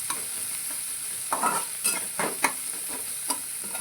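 Onion frying in a pan toward golden brown, a steady hissing sizzle with a run of close spoon scrapes and stirring knocks in the second half.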